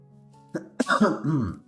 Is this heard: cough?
yes